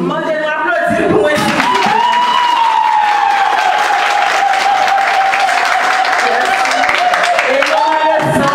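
An audience in a church gathering bursts into applause, a dense steady clapping that continues for several seconds while a voice speaks or sings over it.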